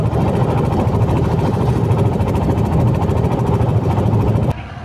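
A trawler boat's engine runs at Mawa ferry ghat on the Padma, a loud, close, steady low chugging drone that cuts off abruptly near the end.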